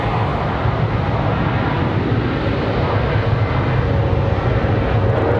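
An American Airlines Boeing 777-200ER jet moving at Charlotte Douglas International Airport gives off a continuous broad engine roar and low rumble, steady and fairly loud, with no voices over it.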